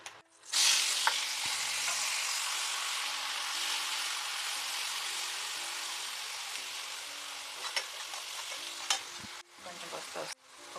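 Onions sizzle and fry steadily in a hot pan as the base for a fish curry, a dense close crackle running throughout with a few brief stirring clatters, no voices.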